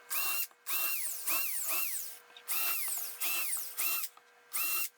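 A power drill bores into a piece of pallet wood in repeated short bursts, each whirring up and winding down, about seven pulses with brief pauses between, close and clear without speech.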